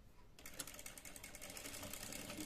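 A sewing machine stitches a child's plain salwar, giving a fast, even run of close mechanical needle clatter that starts abruptly and keeps going steadily, fairly faint, with no talk.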